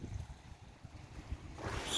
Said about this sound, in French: Le vent, c'est pas foufou le vent.